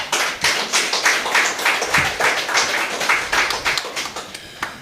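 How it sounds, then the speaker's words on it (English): Audience applause at a lecture on the Spiritual Baptist faith in St. Vincent and the Grenadines, a small crowd clapping in a fairly even patter with individual claps audible, continuing steadily. "And I think that deserves a round of applause."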